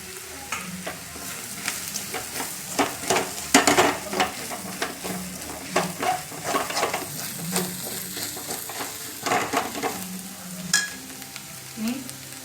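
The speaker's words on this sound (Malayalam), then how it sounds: "സവാള കുറച്ച് ഇതിലേക്ക് ചേർത്ത് കൊടുക്കുക." Sliced onions sizzle loudly in a hot pan for prawn biryani while a spoon stirs and scrapes through them in quick, irregular strokes, close up with no voices.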